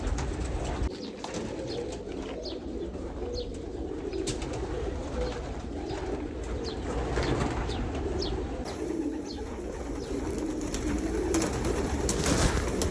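Pigeons coo continuously in a large pigeon farm in Egypt, many overlapping soft calls with occasional wing flaps and faint chirps, a dense close chorus with no talk.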